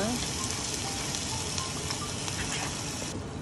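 Marinated chicken hits a hot pan with onions, giving a steady, dense sizzle of frying that fills the whole moment at close range with no break.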